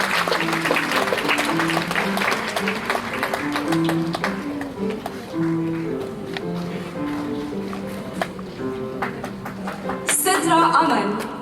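An audience at a school's annual prize distribution ceremony applauds a prize winner, steady broadband clapping carrying on for several seconds under a voice, with a brighter burst of claps near the end.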